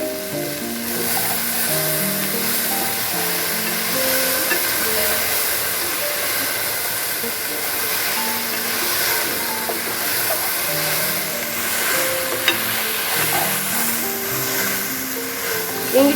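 Okra frying dry in a pan hisses and sizzles steadily, while a spoon scrapes and stirs it in an uneven rhythm, close and moderately loud.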